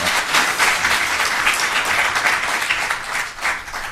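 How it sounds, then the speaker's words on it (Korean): Audience applause for a former prime minister after a lecture on economic policy, a dense, steady wash of many hands clapping close and loud for the whole stretch without a break. "우리 귀중한 말씀 해주신 우리 정운찬 총리님께 다시 한번 큰 박수 보내드리시고요."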